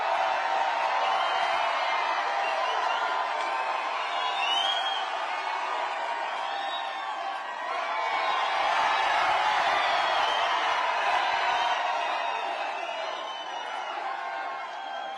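Large rally crowd in Claremont, New Hampshire cheering and whooping continuously, a dense roar with scattered shouts and whistles swelling and easing over fifteen seconds, heard from a distance without clear speech.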